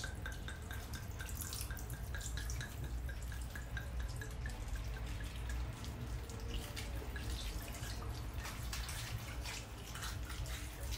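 Wine poured over chicken in a home kitchen, a steady liquid trickle and dripping that runs continuously for the whole stretch at close range, with no talk.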